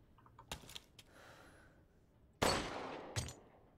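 Gunshots fired in the horror video game Resident Evil Village, a few sharp cracks early on, then a louder blast with a long decaying tail and one more shot shortly after, all fairly close with no talk.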